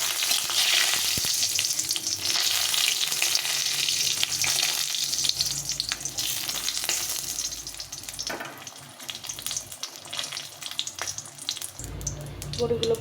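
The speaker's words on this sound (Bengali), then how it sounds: "আমি বড়িগুলোকে একটু ভেজে নেব লাল লাল করে" Urad dal bori sizzle and crackle in hot soybean oil in a pan, a busy steady frying hiss with occasional stirring clatter, fading somewhat in the middle before picking up again, with brief background voices.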